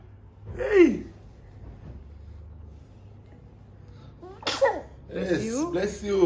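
A single sharp sneeze indoors near the start, followed by quiet room tone and then people talking at home.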